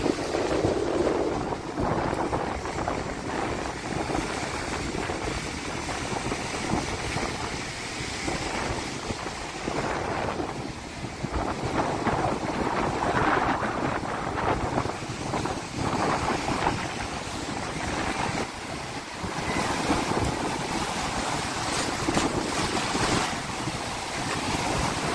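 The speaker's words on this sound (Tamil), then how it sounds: "இந்த இடத்துல இருக்கிற போட்டுகள் எல்லாத்தையும் பாருங்க எப்படி ஆடுதுன்னு பாருங்க அலைக்கு." Steady wash of waves and water churning around moored boats rocking in a harbour at Valvettithurai, with gusty wind buffeting the microphone throughout, no voices.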